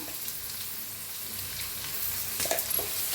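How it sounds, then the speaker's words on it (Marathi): Tomatoes roasting in a pan, with turmeric going in, give a steady low sizzle that swells slightly toward the end, with no voices. "टमाटर, छान असं भाजून घेऊया। असं भाजले बघा"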